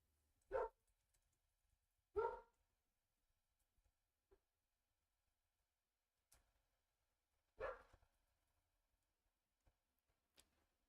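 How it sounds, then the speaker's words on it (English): A dog barks outside, three separate single woofs spaced seconds apart, distant and muffled against an otherwise quiet room with occasional faint clicks. "there's a dog going on outside"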